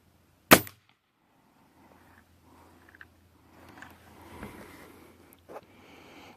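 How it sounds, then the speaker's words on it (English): A Valken Infiltrator air rifle fires a single sharp, loud shot that cuts off quickly, followed by faint handling noises and quiet background rustle. "just going to take a shot just so you guys can kind of hear what it sounds like"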